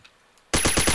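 A silenced gun fires in the shooter game Combat Arms, a sudden loud rapid burst of suppressed shots starting halfway through after a near-silent lead-in.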